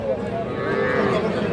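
Cattle, young bulls and heifer calves, low at a livestock market (haat) in Aftabganj, with moos rising over a steady murmur of crowd noise, close and fairly loud throughout.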